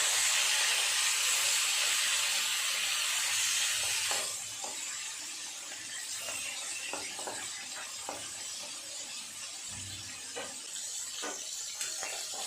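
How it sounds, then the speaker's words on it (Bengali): Hot oil sizzles steadily as fish fries, loud and hissing at first then settling to a softer crackle with occasional clicks and pops. "মাছগুলো এক এক করে ভেজে নেব"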